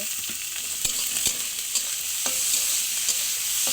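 Whole dried chillies stirred in a hot kadai, a steady crackling sizzle running throughout with several sharp scraping knocks of the spoon against the pan, close and fairly loud.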